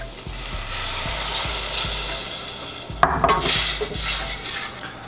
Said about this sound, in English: now we're gonna pour in the veggie broth